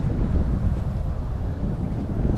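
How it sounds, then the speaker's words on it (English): Strong wind buffets the microphone in a constant, loud low rumble throughout, with no voices heard, during lake bass fishing. "Man, this wind is pissing me off, dude."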